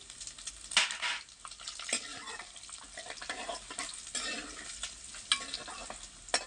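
Cumin seeds and spice masala fry in very hot oil for a dhaba-style kadhi tempering, giving a busy crackling sizzle broken by repeated scraping stirs, with no talking over it.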